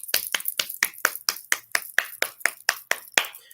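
A single pair of hands claps about fifteen times in an even, brisk rhythm, each clap sharp and close with nothing else around it.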